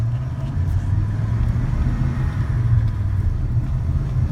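A pickup truck's engine drones steadily with road rumble while it is taken up to freeway speed on a test drive, a constant low hum with no voices.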